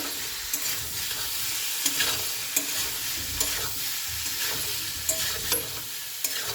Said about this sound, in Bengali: ফুলকপিটা দিয়ে দেবো আলুর মধ্যে চলুন আমি ভালো করে লেড়ে দেবো